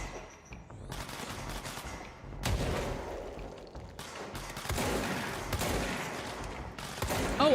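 Enemies fire on the player in the video game Control, bursts of rapid gunfire arriving in several volleys with short pauses between them, fairly close and punchy.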